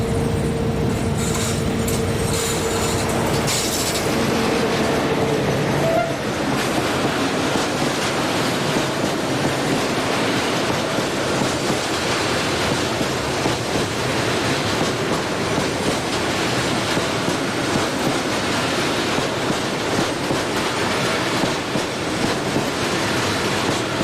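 Portuguese diesel locomotive 1934 hauls a freight train around a curve at Urique, a steady loud rumble and rolling clatter of wagons passing close by, with a brief tone early on and no voices.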